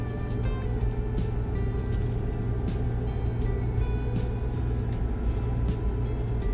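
A Rudas Kenworth truck drives on the road, its engine a steady, low, droning rumble with faint rattles and ticks throughout, and no voices.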